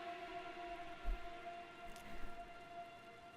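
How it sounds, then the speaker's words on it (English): Steady, soft rain falls in a Dragon Age: Inquisition game scene, a faint continuous patter under a low tonal music drone, with a couple of brief low thumps and no speech. "the sound of the rain in the background"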